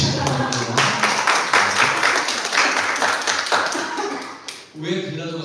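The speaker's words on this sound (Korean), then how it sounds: "박수를 크게 쳐주시기 바랍니다" A church congregation claps loudly and steadily during a worship service, a dense continuous patter of many hands that breaks off near the end as a voice begins speaking.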